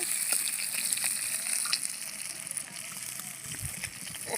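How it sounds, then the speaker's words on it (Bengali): Fish head sizzles softly in hot oil, with small pops and crackles over a continuous hiss. "মাছটাও লাল লাল করে ভাজা হয়েছে"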